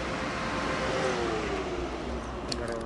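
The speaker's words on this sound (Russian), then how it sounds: "А вот и Санечек подъехал." A car pulls up and arrives nearby, its engine rumbling steadily with a faint rising tone as it rolls in, then a few brief clicks or squeaks near the end; no speech during the approach.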